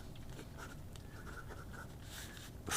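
Wing Sung 630 fountain pen with a fine nib writing on paper, quiet close scratchy strokes in short repeated bursts with no talking.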